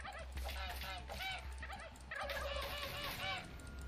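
Several turkeys gobble in the video game How to Survive 2, a close, dense chorus of repeated gobbling calls in two bursts with a short dip between them.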